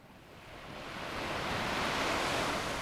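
Pacific Ocean surf off San Francisco washes in as a steady broadband roar that swells from moderate to loud over a few seconds, with no voices.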